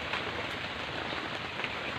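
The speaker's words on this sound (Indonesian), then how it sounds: "Hujan ini guys. Hujan nih." Steady rain pours down outdoors at a fishing spot, a dense, continuous hiss of drops hitting surfaces, close and fairly loud without pause, with no talking.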